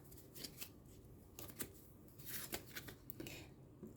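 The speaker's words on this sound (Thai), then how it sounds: "อาจารย์ขอเปิดไพ่ Oracle ให้ก่อนนะคะ" A deck of oracle cards is shuffled by hand nearby, with quiet riffling and soft snapping flicks in short irregular bursts and no voices.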